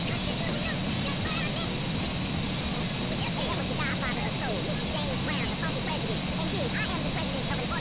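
Propeller airplane engine drones steadily in flight in GTA San Andreas, a constant loud hum over a full game soundscape with faint tonal chirps and no talk.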